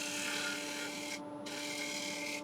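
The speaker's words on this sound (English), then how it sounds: "with the flute closed now, just doing a little shear scrape along" A woodturning gouge with its flute closed shear-scrapes an Irish walnut bowl spinning on a lathe, making a steady, close rasp over a constant motor hum, with a brief pause partway through before the scraping resumes.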